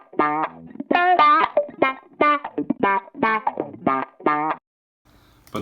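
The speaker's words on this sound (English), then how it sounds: "So the original sample I downloaded off Splice sounds like this." Funky guitar lead sample from Splice, distorted and effected, a bright choppy run of short plucked notes and bends played alone, ending abruptly into near silence.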